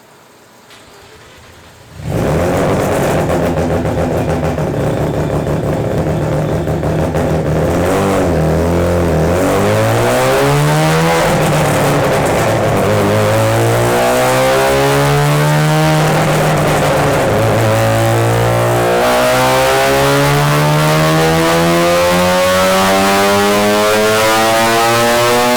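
Bridgeported rotary engine with individual throttle bodies on 100 octane fuel, after a quiet idle, snaps to full throttle and holds a loud, sustained, rising howl toward 9,000 RPM, with pitch sweeping up repeatedly through shifts under load.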